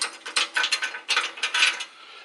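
Rapid ratchet clicking in quick bursts, close and crisp, as 13 mm bolts are loosened from the skid plate under a 2018 Ford F-150 Raptor.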